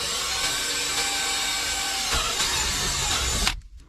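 A power drill bores a hole through plastic for rock light wiring, a loud steady whine for about three and a half seconds that cuts off abruptly, with no talk.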